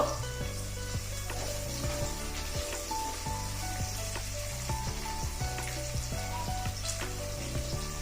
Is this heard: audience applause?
no